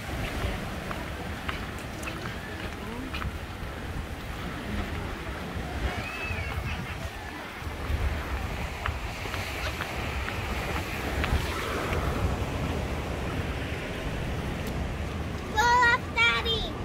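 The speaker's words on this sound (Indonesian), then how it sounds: "Ombaknya kenceng banget." Strong ocean waves surge and crash against the shore at Tanah Lot, a steady broadband roar with wind buffeting the microphone, while people talk intermittently nearby.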